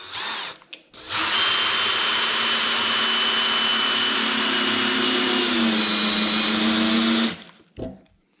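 A DeWalt DCD708 20V brushless compact drill with its clutch set to drill mode drives a 3-inch screw. It gives one steady, loud whine for about six seconds and dips slightly in pitch near the end before stopping.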